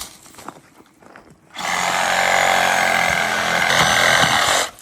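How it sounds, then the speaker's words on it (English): A motorized saw starts up after a few quiet rustles and runs loudly and steadily for about three seconds before cutting off, outdoors in woods. "The mechanical saw."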